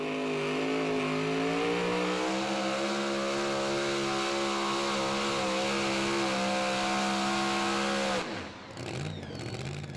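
A super modified 2WD pulling truck, sponsored by WT Warrior Tracks, roars at full throttle during a truck and tractor pull at the 2016 Young Farmers event, a loud sustained high-rev engine note that climbs slightly, then drops sharply near the end.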